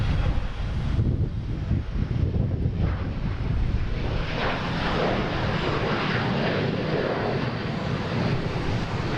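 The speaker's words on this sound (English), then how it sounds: "We have Delta heading to Norfolk, E175" Delta Embraer E175 regional jet at Boston Logan, bound for Norfolk, giving a steady broadband engine roar with wind buffeting on the microphone, fairly loud and continuous throughout without talk.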